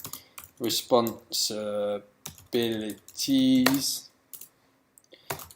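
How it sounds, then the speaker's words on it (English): Light keyboard clicks from typing on a computer keyboard sit faintly beneath a person talking throughout. "Now I'm going to type"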